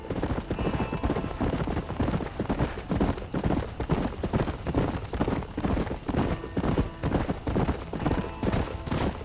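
Horse hooves clip-clop in a steady rhythm in the Red Dead Redemption video game, loud and continuous, with a low rumbling background and no speech.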